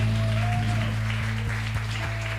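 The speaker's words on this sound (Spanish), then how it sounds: "Y lo invito, iglesia, a que le pueda dar un fuerte aplauso a Dios en esta mañana" Church congregation applauding during a Spanish-language morning worship service, a dense steady patter of clapping over a loud sustained low hum, with a faint tonal whine drifting above.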